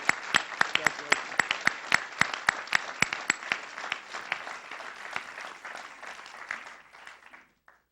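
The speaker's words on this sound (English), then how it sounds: "let's have a big round of applause for the 6 candidates" An audience at a county Law Day event applauds six candidates with a burst of sharp claps that starts loud and dense, then thins out and fades to silence over several seconds.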